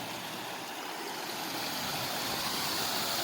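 A small waterfall tumbles down a cliff in a permaculture food forest, giving a steady, close, full rush of splashing water with no breaks.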